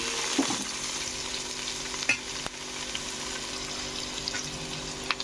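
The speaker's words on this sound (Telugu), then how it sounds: "బీన్స్ క్యారెట్ ఆయిల్లో మంచిగా మగ్గనివ్వాలండి." Green beans frying in oil with ginger paste in a home kitchen pan, giving a steady, close sizzle throughout with a few sharp clicks of a utensil against the pan.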